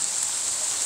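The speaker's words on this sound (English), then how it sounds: "Wow, look at that rain." Rain pouring down outdoors as a steady, even hiss with no breaks, fairly close and on its own for about a second.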